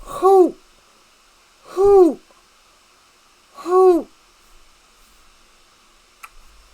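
A person's voice imitates an owl, giving three drawn-out hoots about a second and a half apart, close and clear over a faint background hiss, during a session of the game Pillars of Eternity.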